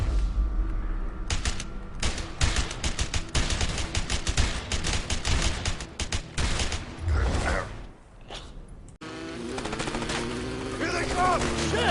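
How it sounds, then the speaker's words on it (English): Enemies in the video game A Way Out fire rapid, dense bursts of automatic gunfire that rattle loudly for several seconds, then briefly stop before a music-backed section follows. "They're shooting at us!"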